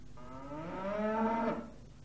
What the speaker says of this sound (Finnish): Punaisen kirjava lehmäkin joi halukkaasti.